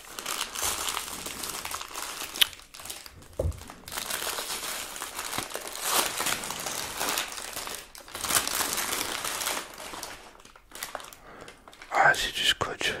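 Plastic bag and packing tape crinkle and crackle in close, irregular bursts while a parcel is unboxed, rustling loudly throughout with brief pauses and a soft voice at times.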